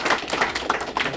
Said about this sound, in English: Let's applaud again.